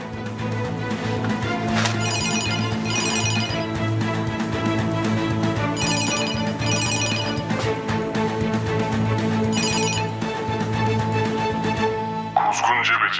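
A telephone rings in repeated short bursts at regular intervals, sitting under ongoing speech and a low steady background hum.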